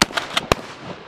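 Gunfire at an outdoor shooting range: four sharp cracks in quick succession within one second, the last one loudest, followed by fading echo.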